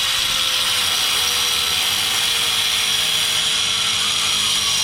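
A power tool cuts a metal part flush on a Honda Civic, giving a loud, continuous high-pitched whine that holds steady for about five seconds, close up and with no talking.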